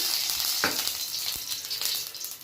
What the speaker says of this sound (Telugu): బీరకాయ ముక్కల్ని లైట్గా ఫ్రై చేసుకున్నాము